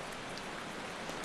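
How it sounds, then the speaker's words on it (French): Steady rain falls on dry, stony ground covered with thorns and scrub at Garoua in Cameroon, a dense, even patter of drops that is close and continuous, with no voices. "la pluie tombe sur Garoua"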